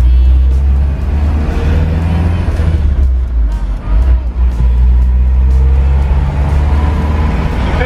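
An old Bedford CA van pulling away, its engine rumbling heavily close by with a strong low-end drone, rising and easing as it gets moving, with faint voices beneath.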